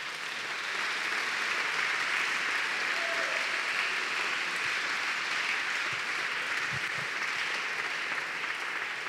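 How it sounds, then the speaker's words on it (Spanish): A congregation applauds at a church service, sustained dense clapping from a large crowd at steady volume for the whole stretch, with no talk over it. "Dele un aplauso al Señor."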